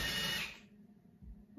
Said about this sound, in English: we're gonna do some drilling, and I am going to just drill a tiny